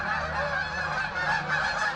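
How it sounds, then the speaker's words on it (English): Geese circling above a park pond honk continuously in a dense, overlapping chorus that stays loud and steady throughout, with no talking. "The way those geese are circling, it's starting to concern me that they're going to try to land in here."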